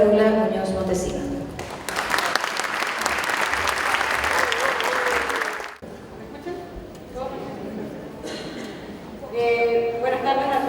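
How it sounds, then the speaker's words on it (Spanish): A crowd claps warmly to welcome a doctor and researcher onstage at a school anniversary ceremony, the applause swelling and then fading. Someone speaks over it in a hall before and after the clapping. "Recibimos con un fuerte aplauso a la doctora Carola Muñoz Montesino."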